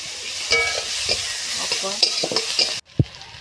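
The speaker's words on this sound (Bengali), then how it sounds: "তারপরে সেই পেঁয়াজটা দিয়ে খুব ভালোভাবে এটাকে নাড়িয়ে চাড়িয়ে নেওয়া হচ্ছে।" Chopped onions frying in a pan while being stirred, a constant sizzle with rhythmic scraping and clinks of a utensil against the pan, ending in a brief pause and one sharp knock.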